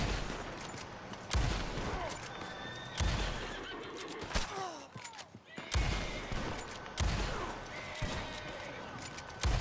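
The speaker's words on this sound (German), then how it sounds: "schießt gerade 6 Schüsse, ne?" Gunfire in Red Dead Redemption 2 Online on PS5: several loud, sharp shots at irregular intervals, mixed with horse neighs and game ambience, with a player talking in German nearby.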